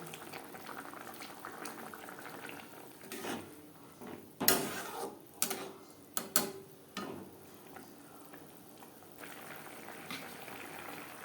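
Katla fish curry gravy boils in a pan, a steady low bubbling interrupted midway by a few sharp knocks and clatters of utensils close by, then settling back to the simmer.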